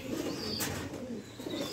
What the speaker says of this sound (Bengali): দেশি কবুতর